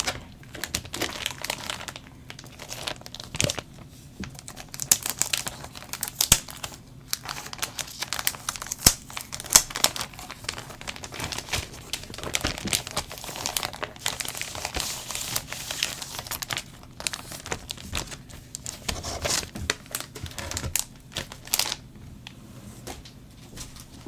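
A little plastic pouch crinkles close up as it is handled and a 1990s Pokémon Voltorb card is slid out, producing dense rustling and crackling bursts throughout with brief pauses.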